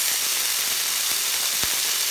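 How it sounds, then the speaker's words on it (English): Meat sizzles and crackles in hot oil in a pan, a dense, steady hiss with a few soft pops and clicks scattered through it, close and continuous without speech. "I added a little bit more oil so you can see that it's frying up really nicely."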